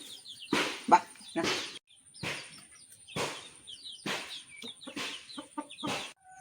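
Three-month-old chicks in a home poultry coop cluck in a string of about eight short calls at a fairly steady pace, moderately close, with no other sound.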